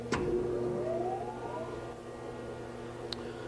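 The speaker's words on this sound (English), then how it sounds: "I'll go ahead and start the grinding wheel." Grinding wheel spinning up on a 1981 Okamoto PSG 125 surface grinder, with a motor whine rising in pitch over about a second and a half, then a steady hum with a click near the end.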